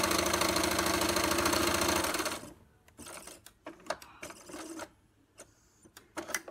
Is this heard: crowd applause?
no